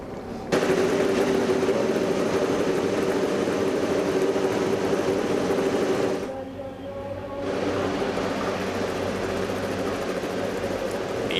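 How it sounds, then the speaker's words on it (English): IndyCar race car engines fire up together on the grid at the 2008 Firestone Indy 300 in Japan, forming a dense, continuous mechanical roar that briefly dips midway before swelling again, with no speech over it. "The engines come to life"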